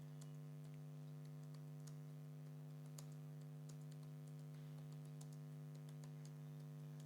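Computer keyboard typing, quiet scattered key clicks in short irregular runs over a steady electrical hum, fairly distant and faint, with no speech.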